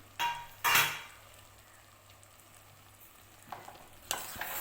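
Eggplant, potato and chana dal curry with ginger, curry leaves and coriander being stirred in a pan, with two sharp scraping stirs, then a quiet sizzle and more scraping near the end.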